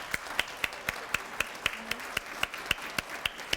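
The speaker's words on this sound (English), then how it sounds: "Could we have another round of applause for our honorees today?" A few people clap for honorees at a Daughters of the American Revolution chapter awards reception, sparse distinct claps in a fairly even rhythm, soft and somewhat distant.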